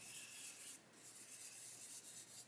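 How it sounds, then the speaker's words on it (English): Sanding the wheel rims of a HobbyBoss 1/35 Scammell Commander model kit, a faint continuous rubbing rasp with slight rhythmic swells, close and alone. "And you can see there it's sanding all the way around"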